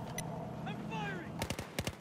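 Rifle gunfire in the Battlefield 4 campaign, a quick burst of three or four sharp shots near the end, following a stretch of game background noise and voices.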